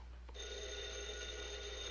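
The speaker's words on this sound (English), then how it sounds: "That's the phone, Junior." A telephone rings in a quiet room, one sustained electric bell tone starting just after a brief click and holding steadily to the end, fairly faint and alone with no voices.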